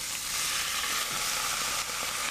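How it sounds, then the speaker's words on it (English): Loud, continuous sizzling of food in a hot pan, a steady hiss with faint crackles, close up and with no talking. "Do you hear this sizzling, folks?"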